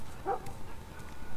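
A dog in The Last of Us Remastered video game gives a short, somewhat distant bark once, then low background ambience continues.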